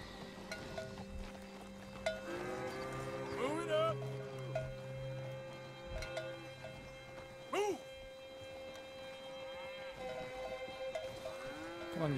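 Cattle low with drawn-out, wavering moos in Red Dead Redemption 2, several calls spread over a busy game soundscape while people talk.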